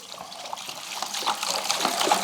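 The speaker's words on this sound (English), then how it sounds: "I will just put in the 5 liters of distilled water" Distilled water pours steadily into a container for Mercedes CLS coolant mixing, a soft continuous gurgling trickle at close range.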